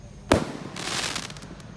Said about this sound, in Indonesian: Siap meluncur roket kombi yang kedua, yang jumbo.